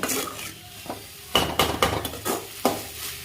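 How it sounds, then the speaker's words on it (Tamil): Ridge gourd stir-fry with grated coconut is sautéed in a pan, with a series of sharp metal spatula clanks and scrapes over a light background sizzle, close and fairly loud. "தேங்காய் போட்டுட்டு நல்லா வதக்கி விட்டுட்டு"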